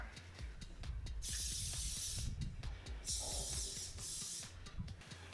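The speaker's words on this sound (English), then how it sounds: "we're going to spray the waffle iron with non-stick spray" Non-stick cooking spray hisses onto a waffle iron in a few bursts, separated by brief pauses, over faint clattering and background kitchen noise.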